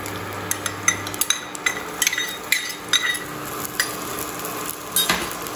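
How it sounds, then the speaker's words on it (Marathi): Ginger and garlic slices dropped into hot oil for veg Hakka noodles, with a light sizzle under repeated clinks and scrapes of a utensil against the pan, close and irregular. "तर इथे आता आपलं तेल तापलेलं आहे, तर आपण याच्यामध्ये आलं लसूणचे काप करून घेतलेले आहेत ते घालून घेऊया"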